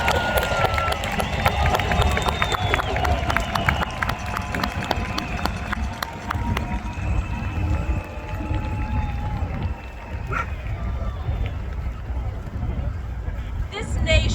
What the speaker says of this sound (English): Please give a warm round of applause for Jessica Jensen.